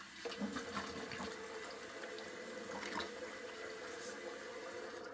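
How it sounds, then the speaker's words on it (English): Water runs steadily from a tap, rinsing during a wet shave with a razor: a continuous, close hiss and splash with faint clinks. "Let me just rinse down a little bit."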